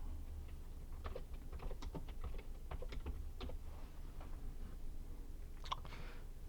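Fingers typing on a computer keyboard, a quick run of close, light key clicks in uneven bursts, then a pause and a final couple of taps.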